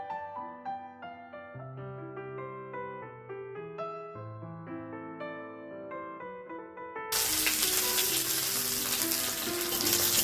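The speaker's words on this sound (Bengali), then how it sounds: "শাক ভাজার মধ্যে আমি কাঁচা লঙ্কা আর রসুন ফোড়ন দিয়েছি তারপরে শাকগুলো দিয়ে দিলাম" About seven seconds of melodic music gives way to loud, steady sizzling as leafy greens fry in oil tempered with green chilli and garlic.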